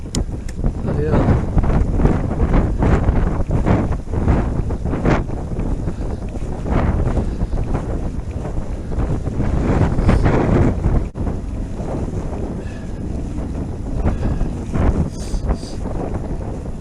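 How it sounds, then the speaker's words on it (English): Strong wind buffeting the microphone during an ebike ride through the Lincolnshire Wolds, a loud continuous low rumble with gusty surges throughout and no clear talk. "Back in the wind."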